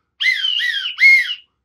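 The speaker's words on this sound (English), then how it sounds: "Do you hear a whistle?" Whistle blown during a protest chant: three short shrill blasts in quick succession, close and loud, with a slight warble, the last blast stronger, then silence.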